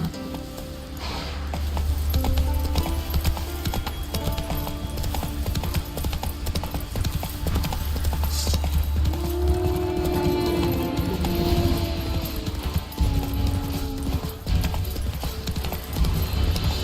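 Roach the horse galloping in a video game, a fast rhythmic clip-clop of hooves that runs steadily and close for the whole stretch, with a brief whinny and faint talk in places.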